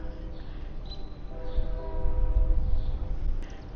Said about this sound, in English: Hear the train whistle off in the distance there as we just are leaving the train depot.